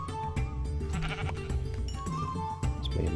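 Sheep in the video game Minecraft give repeated wavering bleats, fairly loud and close, mixed with game music and other game sounds.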